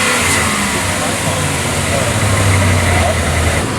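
A hot rod with a full CatMax exhaust system and X-Force pipes gives a loud, close, steady engine roar with a slight rise in revs, while people talk over it.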